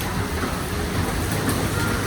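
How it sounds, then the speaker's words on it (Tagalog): Heavy rain pours down steadily during rainy season, a dense, loud, even hiss and patter with no breaks. "Lakas ng ulan."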